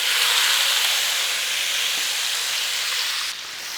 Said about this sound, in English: Now, this is hot. It's going to spit bacon in there.